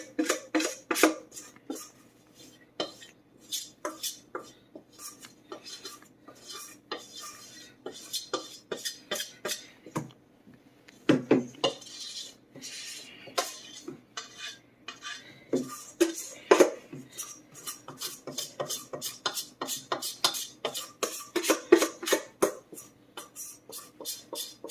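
A metal spoon scrapes and clinks against a container while emptying it, in a long run of quick, irregular taps and scrapes, close up and fairly quiet, with brief pauses.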